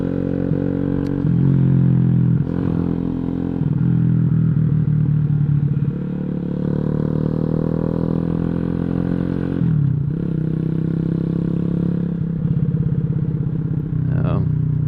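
A Boom Vader 125 motorcycle running steadily while being ridden, its engine drone continuous and fairly loud with small shifts in pitch and a few clattering bumps, and a voice talking over it now and then.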